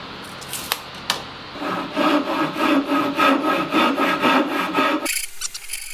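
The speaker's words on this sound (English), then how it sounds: "So here I'm just cutting out all the sections of this blank, this timber blank, which is American walnut" A handsaw works through an American walnut timber blank with steady back-and-forth strokes, close and fairly loud, with a couple of sharp knocks before it and workshop hum behind.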